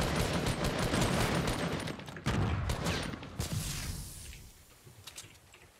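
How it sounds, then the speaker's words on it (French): Gunfire from Fortnite Battle Royale rattles in loud, dense bursts of rapid shots, then thins into scattered fainter pops as the firefight fades, with no talking. "Ça tire sur moi derrière."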